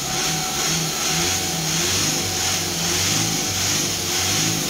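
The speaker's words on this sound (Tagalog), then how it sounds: "Ire-rev ko lang po siya ng ganyan." A warmed-up car engine revs repeatedly, rising and falling in pulses over a steady idle, close and loud with no talking.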